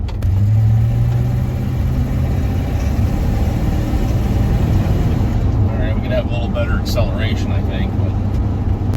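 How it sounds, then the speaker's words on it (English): A 1978 Chevy K-20 pickup's engine and exhaust rumble steadily at a low, even pitch, fairly loud and close, with talking over the top late on. "Even that exhaust sounds pretty good. It's not too loud."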